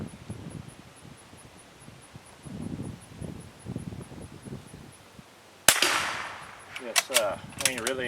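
One sharp, loud rifle shot from a squirrel rifle being sighted in with a 10-power scope cracks out outdoors, followed by rustling and brief clatter; soft shuffling and breathy movement come before it.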